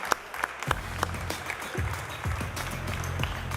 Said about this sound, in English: Can I get another round of applause, please?